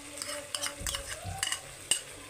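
A spoon stirs and scrapes spiced masala with stirred-in yogurt as it fries in a pan, soft sizzling beneath irregular clinks and scrapes of utensil against metal, fairly quiet and close.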